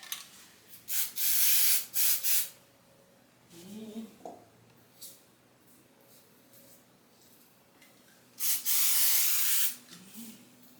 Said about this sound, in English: It's been a while since I've spray basted a quilt